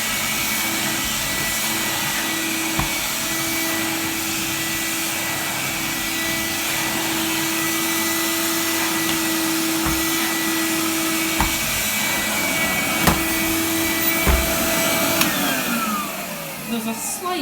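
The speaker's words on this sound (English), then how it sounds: "Let's hear this running." A green 1991 Henry Hoover vacuum cleaner runs steadily nearby with a constant whooshing roar and a faint tonal whine, a few clicks and knocks near the end as it winds down.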